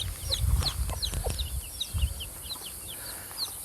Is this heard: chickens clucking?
yes